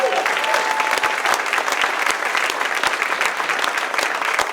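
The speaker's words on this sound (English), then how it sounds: "Let's give a round of applause for all of them." A large audience applauds steadily at a school district State of the District 2024 event, dense continuous clapping at even loudness throughout with no pauses.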